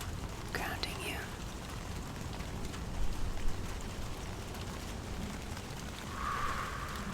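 Soft steady rain hisses in the background under a close whispering voice, with a faint low rumble and a few light crackles.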